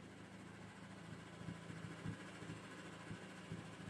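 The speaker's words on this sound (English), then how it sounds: "If I depress the clutch all the way in, it makes a louder noise like that." Transmission noise from a car fitted with a Clutchmaster FX400 clutch, heard with the clutch pedal pushed all the way in: a faint, steady low engine hum with soft, irregular ticks and knocks.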